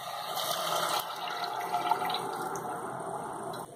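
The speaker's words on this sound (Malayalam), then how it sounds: "1-2 കപ്പോളം വെള്ളം ചേർത്ത് കൊടുക്കുകയാണ്." Water, about one to two cups, poured from a vessel into chicken curry with roasted ground coconut masala in a pan, giving a steady close splashing gush that runs for several seconds before stopping abruptly.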